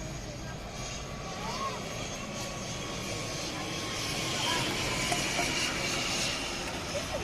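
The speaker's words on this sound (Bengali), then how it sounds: "ঠিক মাথার উপর দিয়ে এই বিমানগুলো নেমে যাচ্ছে।" An airliner passes low overhead on its approach to land at Dhaka airport, a broad jet roar that builds slowly and grows louder toward the end, with faint background chatter from onlookers.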